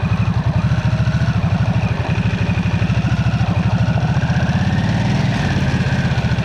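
A Harley-Davidson Nightster 975 with its new Revolution Max engine idles close by, a loud, steady, even train of rapid exhaust pulses running throughout with no voices over it.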